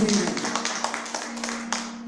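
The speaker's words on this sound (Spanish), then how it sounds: "Denle un aplauso al Señor" Church congregation clapping in praise during a Spanish-language sermon, a brief burst of scattered hand claps with a steady hum beneath and a voice speaking at the start.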